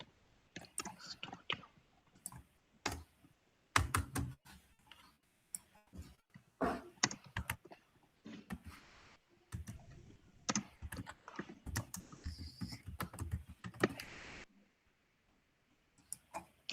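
Close, quiet typing on a computer keyboard comes in irregular bursts of quick key clicks while Python code is written, with short pauses between runs and faint murmurs here and there.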